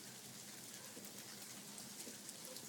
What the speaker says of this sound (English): It's hailing outside like crazy.